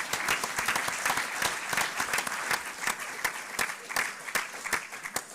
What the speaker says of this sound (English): If we could give Julia and Alex a round of applause, please.